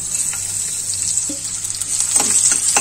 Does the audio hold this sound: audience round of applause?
no